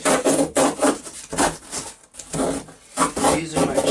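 A utility knife slices through cardboard while a large item is packed for shipping, giving rhythmic rasping strokes in bursts with short pauses, close and fairly loud.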